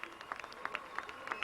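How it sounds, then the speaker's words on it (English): Scattered, faint clapping from a small crowd at a high school baseball game, a few distinct claps popping out over a quiet background. "And he gets a well-deserved round of applause."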